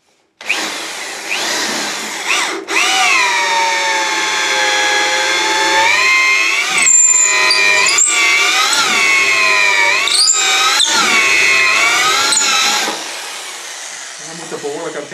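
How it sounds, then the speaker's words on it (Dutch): Power drill boring dowel holes in wood, its motor whining with a steady, rising-and-falling pitch as it cuts, loud and close for about ten seconds before winding down. "Boren."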